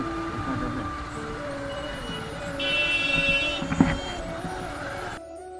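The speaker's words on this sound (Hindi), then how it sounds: "यार ट्रैफिक इतना ट्रैफिक।" Busy road traffic on the route toward Gokul, a steady close rumble of engines with a mid-clip burst of horns and a sharp knock, no clear speech.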